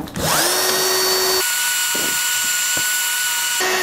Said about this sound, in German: es ist wirklich kraftaufwendig, hier ein Loch reinzubohren.